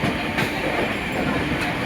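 Howrah Digha Tamralipta Express running at speed, a dense, steady roar of wheels and carriage rumble close by with faint rhythmic clatter, no talk.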